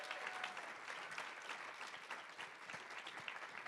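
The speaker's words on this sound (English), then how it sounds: "Can we just give these folks like a huge round of applause?" Applause from the audience at a music ecosystem panel during the Modern Band Summit 2024, a steady, dense wash of many hands clapping that holds evenly for several seconds without a break.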